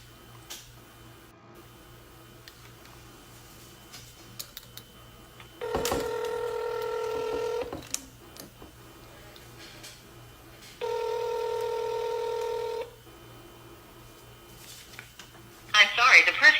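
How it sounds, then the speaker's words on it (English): During a phone call attempt, two long electronic ringback tones sound clearly on the line several seconds apart, surrounded by quieter clicks and faint voices talking. "I'm only gonna try to call this bruh back one more time, y'all."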